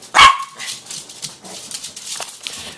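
One sharp, loud dog bark at the start, followed by quieter rustling and faint background noise.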